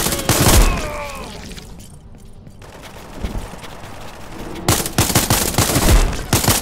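Rapid rifle gunfire from the space shooter game Spacebourne 2, loud dense bursts of shots at the start and end with a quieter rumbling stretch between.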